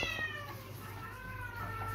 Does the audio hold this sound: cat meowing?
yes